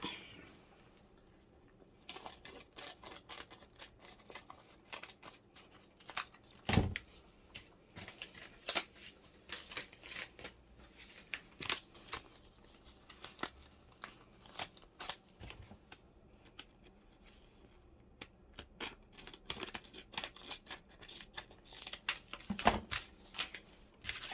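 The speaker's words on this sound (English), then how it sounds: "So I will have to cut this down, otherwise it will be really awkward." Scissors snipping through paper while making junk journal ephemera, a series of close, quiet, irregular cuts and paper rustles with short pauses in between.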